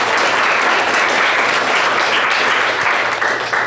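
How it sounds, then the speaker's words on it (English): A conference audience applauds a panel of speakers at a civic tech event, steady dense clapping filling the room for several seconds without talk. "Can we get a quick round of applause for these amazing panelists?"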